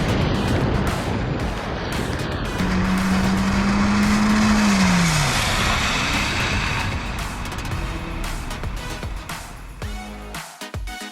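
A vehicle brakes hard to a stop from speed on tires worn to the 2/32-inch legal minimum tread, giving a loud continuous tire squeal and skid over steady road and engine noise that fades as it halts.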